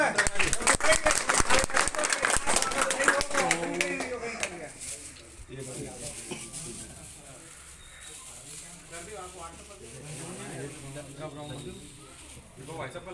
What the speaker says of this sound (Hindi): जाओ ताली बजे तो सब